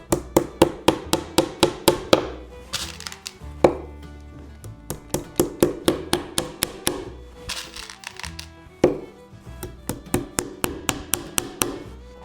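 A western saddle foundation being worked with tools, with screws going in, giving loud, close, rapid bursts of rhythmic hammer-like tapping broken by short pauses and scattered knocks.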